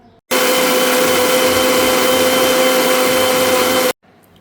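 A kitchen blender whirs at full speed, blending sugar with a little water for an iftar drink, switching on abruptly and running loud and steady for about three and a half seconds before cutting off.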